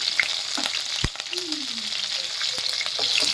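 Curry leaves and chillies sizzling in hot oil with cumin, mustard seeds and dals for a North Karnataka red chutney, a close steady crackle broken by sharp spoon clicks and scraping, no speech.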